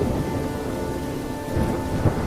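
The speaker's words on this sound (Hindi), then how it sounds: "बारिश भी रुकने का नाम नहीं ले रही है" Steady heavy rain pours down with a low rumble of thunder rolling underneath, a dense continuous wash of sound with a slight swell near the end.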